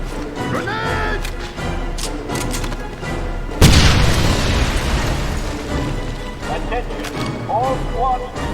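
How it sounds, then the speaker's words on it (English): A loud, sudden grenade blast in the 2009 video game Wolfenstein erupts midway, booming and rumbling, then decays into lingering noise, with voices shouting before and after. "Grenade!"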